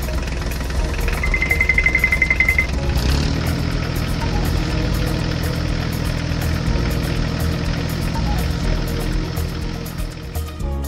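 Forage harvester and tractor engines run in a cornfield with a steady, loud mechanical drone and constant vibration, joined briefly early on by a thin high whine.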